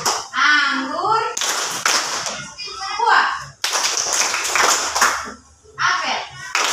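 Children clap their hands in a classroom counting game, clapping three times for apple and twice for grape, with sharp bursts of group claps alternating with an adult's and children's speech close by.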